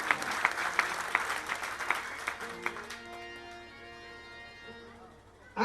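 Applause from an audience at a Gujarati bhajan program, rapid claps through the first half that thin out and fade, leaving sustained musical tones at the end.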